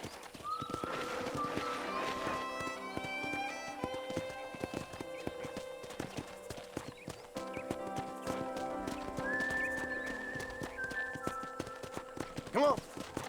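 Horse hooves clip-clop steadily in Red Dead Redemption on Nintendo Switch, with a whinny and tonal music layered over the trotting rhythm.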